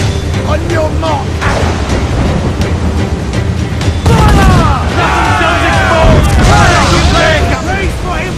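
Cannon fire from a naval battle in Assassin's Creed IV Black Flag: heavy booms roll out under loud shouted battle dialogue, with a big blast swelling near the middle and rumbling chaos continuing to the end.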